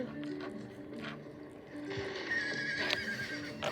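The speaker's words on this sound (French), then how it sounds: "Avance, punaise de cheval." A horse whinnies in a video game, set against steady game music and background noise, with the neigh rising clearly in the second half.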